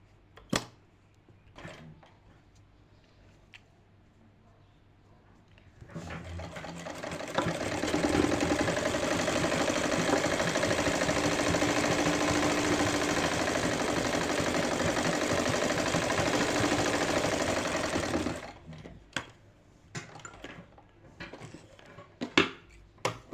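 A sewing machine stitches fabric on a kameez being let out at the hip, running steadily for about twelve seconds with a close, even whir between quieter handling clicks before and after.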